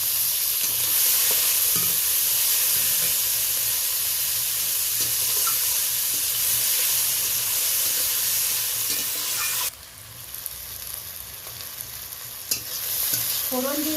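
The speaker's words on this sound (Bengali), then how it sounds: "কেটে রাখা পেঁয়াজ, টমেটো, কাঁচা লঙ্কা দিয়ে ভালোভাবে আমি নেড়ে নিলাম" Onion, tomato and green chilli are stirred and fried together, giving a loud hissing sizzle with frequent scraping; the hiss drops sharply near the end, followed by softer stirring sounds.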